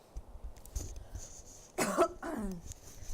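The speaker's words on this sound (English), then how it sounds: "I'm trying to be good about not coughing directly into my mic" A person coughs close to the microphone, a few short throat-clearing bursts over a quiet room with soft background game sound.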